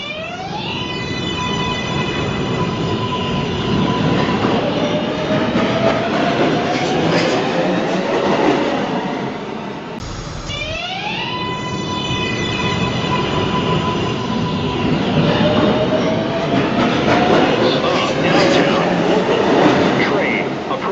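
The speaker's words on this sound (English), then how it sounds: "This is a Manhattan-bound 1 train." A Manhattan-bound 1 train on the New York City subway running loud and close, with a continuous rumble and rising and falling whining motor tones, briefly dipping midway before the drone resumes.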